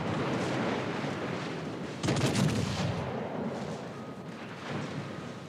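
The battleship Vanguard's 5.2 inch secondary guns fire during a naval battle in World of Warships: Legends. A sharp, booming volley of rapid shots bursts out midway over a constant rumbling game background.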